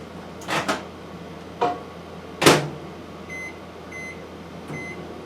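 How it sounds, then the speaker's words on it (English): Microwave oven heating melt-and-pour soap, with a few soft door or cupboard knocks followed by a series of short, clear electronic beeps, heard close in a quiet room. "And I put it in the microwave for about 10 seconds at a time."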